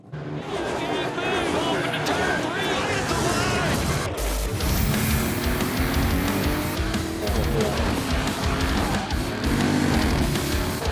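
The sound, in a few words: GT race cars on formation lap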